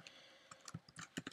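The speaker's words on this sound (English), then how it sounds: "Sorry for the loud clicking. My mic is right by my keyboard." Loud, close computer keyboard clicks, a quick irregular burst of keystrokes from a keyboard sitting right beside the microphone, with no talking.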